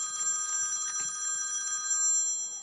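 A telephone rings with a steady electronic tone, close and clear, continuing throughout with faint background noise and no talking.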